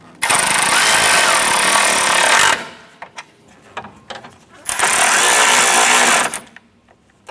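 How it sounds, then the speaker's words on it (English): A power tool runs in two long, loud, steady bursts while tightening bolts on the radiator support of a 2004-2008 Acura TL, with clicks and small knocks of handling in the quieter gap between them. "let's go ahead and tighten those down"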